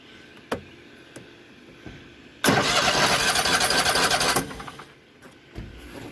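Kohler Confidant ZT740 engine on a Bad Boy Maverick mower being started after an oil change: faint ticks, then a sudden loud two-second cranking roar that cuts off, followed by quieter knocks.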